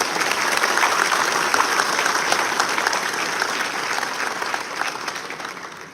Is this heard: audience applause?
yes